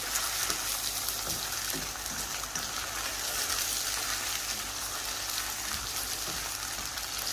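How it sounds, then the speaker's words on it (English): Chopped tomatoes being stirred into a frying pan for a split-chickpea chana dal, an even steady sizzle with soft intermittent stirring taps, close and moderately loud, no talking. "Just gently put them in. And we're just going to stir that in very gently."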